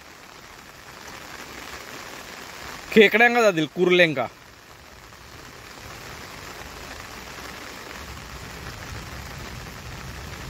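Steady rain of the first monsoon shower falls in Sindhudurg on the Konkan coast, a continuous even hiss throughout, with someone speaking briefly near the middle.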